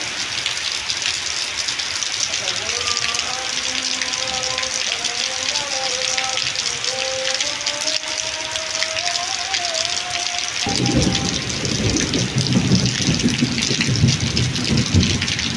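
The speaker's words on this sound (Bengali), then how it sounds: "মারাত্মক জোরে বৃষ্টি এলো" Heavy monsoon rain pours down steadily with a loud, constant hiss and rumbling thunder. A tonal voice-like line drifts through the middle before the downpour swells even louder near the end.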